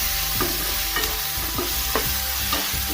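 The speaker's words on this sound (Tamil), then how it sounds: "இப்போ இது எல்லாமே சேர்த்து நல்லா வதக்கிக்கலாம்." Ingredients with tomato sautéing in a pan for a village-style dried fish curry, with a steady sizzle and the scrape of a spatula stirring roughly every half second, close and alone.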